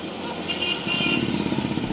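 Yamaha RX 135 motorcycle converted to a six-speed gearbox, its two-stroke engine running steadily close by with a rough, buzzing idle that rises slightly in the second half.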